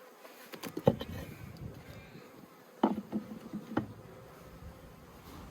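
Honeybees around a top bar hive in Australia, a faint low hum with a few louder close buzzes as bees pass near, no voices.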